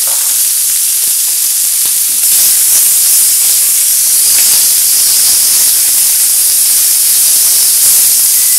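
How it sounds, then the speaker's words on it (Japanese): Slices of hunted wild duck meat laid in a hot frying pan and searing with a loud, continuous hiss of sizzling and steam, close and unbroken throughout, with no talk. "この切り分けたカモちゃんがね、今こうやってねフライパンに並びます"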